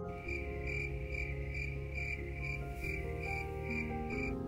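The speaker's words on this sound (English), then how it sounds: "Do you know what a cricket sounds like?" Crickets chirp in a steady, evenly spaced pulsing trill that repeats about twice a second, with a sustained droning tonal background underneath.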